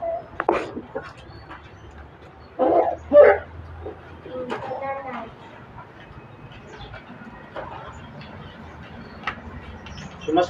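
Dog barks sound at a residence, several short sharp yips clustered near the start, amid background chatter and scattered bird calls.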